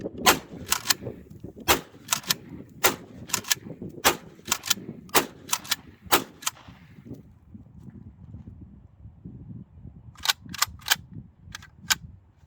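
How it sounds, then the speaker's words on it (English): A budget pump shotgun, either a Savage Stevens 320 or a Mossberg Maverick 88, is fired outdoors into the dirt: about fifteen sharp, loud reports in quick irregular succession, then a pause and a few more shots near the end. "I don't have anything to shoot at this time, so it's just going into the dirt right away."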